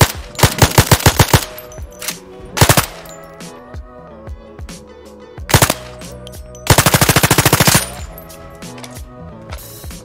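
Gunfire in the VR shooter Zero Caliber: loud bursts of rapid automatic fire with single shots and mechanical clicks of weapon handling between volleys, close and punchy.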